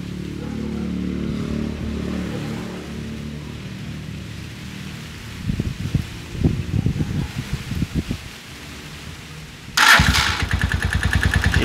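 A motorcycle wired with ignition coils and a CDI unit sputters through uneven attempts, then fires up abruptly near the end into a loud, rapid idle, preceded by a low hum and rustling handling noise.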